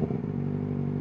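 A Kawasaki ZX-4RR motorcycle with its catalytic converter deleted revs hard nearby, producing a brief, steady, raspy high-rpm engine roar that holds level for about a second.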